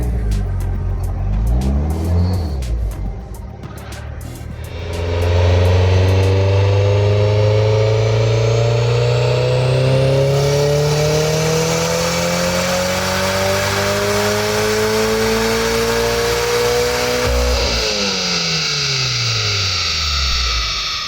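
A built Gen 4 3SGTE engine in a Toyota MR2 revs hard on a dyno. The loud, rising engine note climbs steadily through a long pull before dropping off, with some rougher revving first.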